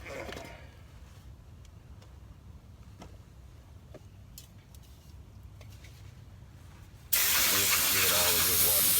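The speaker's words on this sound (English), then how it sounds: "I'm going to spray all that off too before I put this back on." Cleaner sprays in a loud continuous hiss near the end, washing down the drum brake and emergency brake area of a 1996 Isuzu Rodeo, following a stretch of quiet workshop background.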